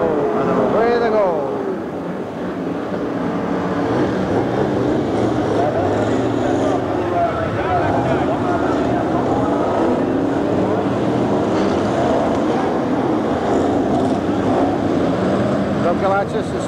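Stock cars pull away at the start of a Grand National at Long Eaton in 1990, their engines roaring in a continuous rough din beneath a commentator's voice.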